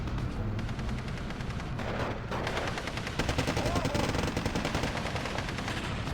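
Rapid, dense gunfire and artillery rumble from a Steel Division 2 battle, with 120 mm guns firing; a continuous loud barrage with repeated sharp reports and no clear pauses.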